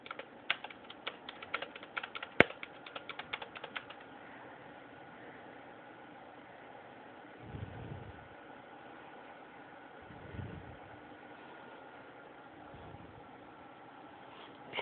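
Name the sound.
typing on a computer keyboard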